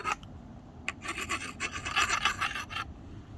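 A file rasps across a hatchet blade at a bush campsite on Ontario crown land: a few short scrapes, then a run of close, gritty sharpening strokes with no talking.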